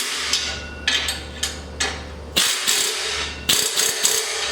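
A ratchet wrench tightens the muffler flange bolts on a 2013 Subaru Forester, quick bursts of metallic clicking repeated several times with brief pauses between, close and clear with no talk.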